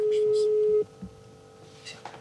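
A steady telephone ringback tone plays as an interpreter-arranged call connects, a single sustained beep lasting close to a second before cutting off, followed by faint room noise and brief distant voices.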